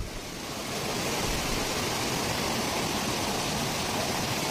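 A stream flows near Devkund waterfall in Maharashtra, giving a constant broadband rush of water that swells slightly in the first second and then holds steady and close, with no voices.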